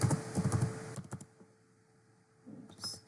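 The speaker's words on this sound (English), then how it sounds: "Just type exactly the record information here." Fingers type a burst of quick keystrokes on a computer keyboard while entering a new sales record in an Excel spreadsheet, then pause briefly before a few more clicks near the end; close and fairly quiet, with no talking.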